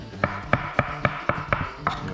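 A knife slicing vegetables for sautéed beet greens and mushrooms strikes a board in a steady series of about eight crisp, evenly spaced chops, close and clear with no talk over them.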